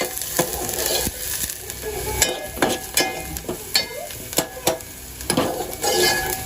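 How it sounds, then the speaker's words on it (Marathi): Curry leaves and onion sautéing together in a pan, a steady sizzle broken by repeated sharp clinks and scrapes of a spoon against the metal, close and fairly loud. "आपल्याला त्यामध्ये कढीपत्ता आणि कांदा एकत्र परतून घ्यायचा आहे"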